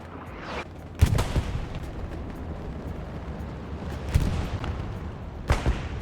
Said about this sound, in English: artillery takes him out